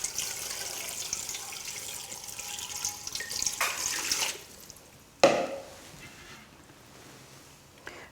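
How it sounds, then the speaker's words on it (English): Water from a tap splashes into a pot of peeled onion and celery for a gluten-free pumpkin soup, a steady nearby pour that stops after about four seconds, followed by a sharp knock and quiet handling. "Now I'm going to cover that with a couple of litres of water."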